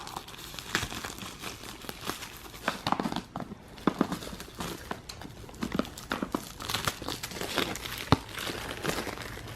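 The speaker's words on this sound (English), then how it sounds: "So I went ahead and started unraveling the plastic." Crinkly plastic packaging being pulled open and unwrapped from a Momcozy M5 hands-free wearable breast pump, a close, irregular series of rustles and crackles with sharp snaps, no talking.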